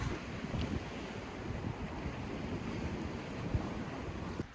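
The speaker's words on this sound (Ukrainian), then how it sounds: "Ух, штормить щось на озері" Stormy wind and waves on Lake Huron, a steady broad roar of surf and gusting wind buffeting the microphone throughout, with no voices.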